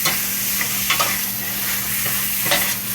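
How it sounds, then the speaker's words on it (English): Meat and onions frying together in a pan, stirred steadily, with a continuous close sizzle and soft scraping under a constant hiss; no voices. "The meat is added to the onion. Now we stir it together."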